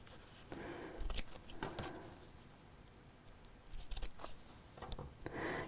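Scissors snip out the corners of fabric pieces for a drawstring pouch, several sharp close cuts in two clusters with quiet pauses between, no talking.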